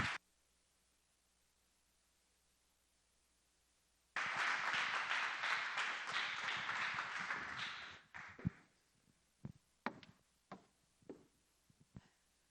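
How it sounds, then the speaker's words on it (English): Audience applause breaks out after a short silence at a community talk event, a burst of clapping lasting about four seconds before dwindling into a few scattered, isolated claps. "if we all please give a round of applause for Tori Fisher"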